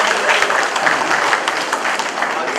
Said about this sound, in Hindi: तालियां बजाते रहिए, जितने ज्यादा पुरस्कार मिलते हैं।